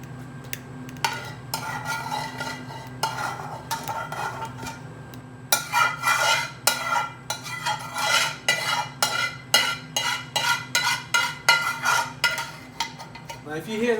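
Thick chicken tikka bhuna curry sauce being stirred in a pan in restaurant style, with a steady run of close scraping, sizzling strokes that grow louder and more rhythmic partway through, no voices over it.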